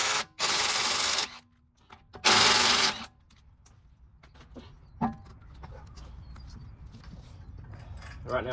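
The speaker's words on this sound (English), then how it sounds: "Right now I'm just winding in the piston" A Toyota Celica brake caliper piston is wound back in with two loud close bursts of power-tool whirring, followed by quieter metallic clicks, taps and small mechanical handling sounds.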